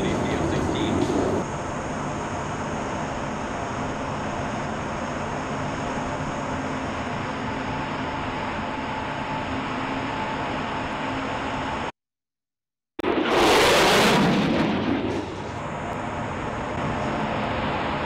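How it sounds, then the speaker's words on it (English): An F-16 fighter jet makes a low-altitude, high-speed pass, a loud, constant broadband roar that cuts out briefly and then returns as a surging rush before settling back to a steady roar. "Positions as aircraft and demonstrates the low altitude, high speed capability of the F-16."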